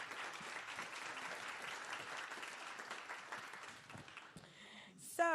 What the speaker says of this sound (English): one more round of applause for the Houston Grand Opera